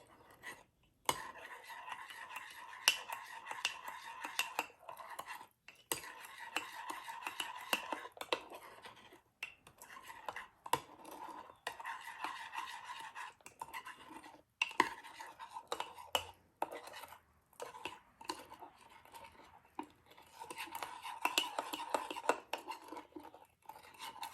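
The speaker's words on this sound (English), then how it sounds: "we're going to use our spoon, and we're going to stir everything together" A spoon stirs cake batter in a mug with soft, repeated scraping and clinking against the sides, steady and fairly quiet, with no voices.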